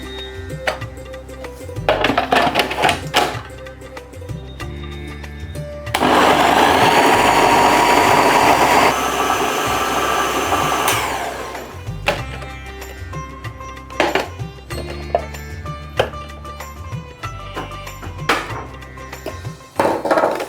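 A kitchen mixer grinder whirs loudly for about five seconds, blending a semolina dough mixture for Diwali champakali, between quieter stretches of clinking and handling sounds.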